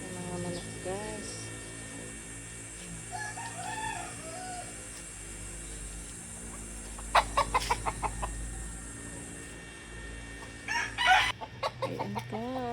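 Backyard chickens clucking in scattered bursts near the microphone, with a rooster crowing loudly partway through and more crowing near the end, set against a steady low background hum.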